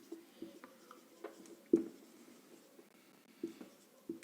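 Chalk or marker scratching across a board in a physics lecture on Coulomb's law, with short strokes and taps, one louder stroke near the middle, fairly quiet in a room.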